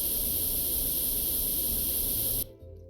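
A paint gun sprays in Tank Mechanic Simulator while Sherman tanks are being worked on, giving a loud, steady close hiss that runs unbroken for over two seconds and then cuts off abruptly, leaving a faint low hum.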